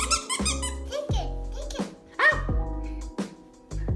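An 8-week-old Labradoodle puppy gives several squeaky yips and whines in quick bursts at close range, mixed with a person talking.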